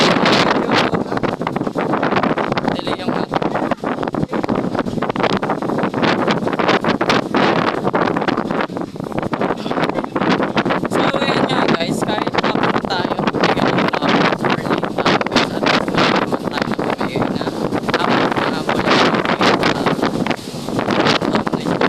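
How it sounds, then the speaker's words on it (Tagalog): Strong outdoor wind buffets the microphone with continuous loud rumbling and roaring gusts for over twenty seconds, nearly drowning out faint voices talking underneath. "ganyan siya, mahangin talaga siya."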